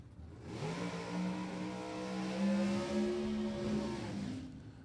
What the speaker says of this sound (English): a little bit bigger burnout for that E-altered automatic